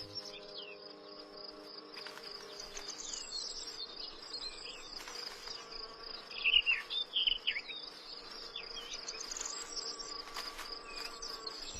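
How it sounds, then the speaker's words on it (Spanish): A spring meadow of flowering rockrose and nectar-rich plants hums with buzzing bees and flies over a steady cricket chirr, with a louder insect passing close for a moment midway and faint birds far off. "otras plantas producen un néctar que atrae a un sinfín de insectos multicolores"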